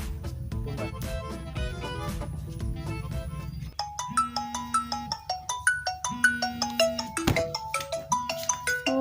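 A melodic phone ringtone plays alone, a bright electronic tune repeating its short musical phrase at a steady, fairly loud level.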